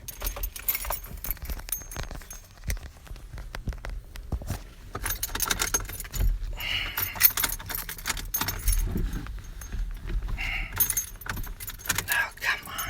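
Keys jangle and rattle in repeated bursts near the microphone, with a car nearby, under a quiet, noisy background.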